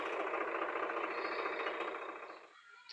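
A tractor engine runs loud and close with a steady, rough chugging drone that suddenly drops away near the end, leaving a brief quiet tail.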